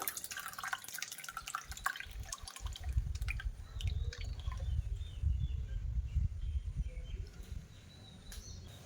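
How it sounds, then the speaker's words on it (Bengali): Curdled milk poured through a cloth while making mozzarella cheese at home, with soft dripping and trickling and a low liquid rumble that runs steadily for several seconds. "এবার দুধটা আমি ঢেলে দেব"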